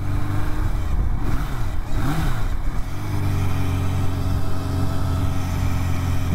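An idling motorcycle engine with blown forks runs steadily and loudly, a thin squealing whine riding over the rumbling idle throughout.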